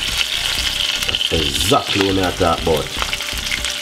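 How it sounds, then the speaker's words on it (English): Salmon with fresh herbs frying in a pan, a steady close sizzle running throughout while someone talks over it. "Allow that to fry for more 5 more minutes."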